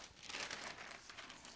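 Paper crinkles and rustles steadily for a moment, close up and fairly quiet, with no voices over it, while making self-rising flour.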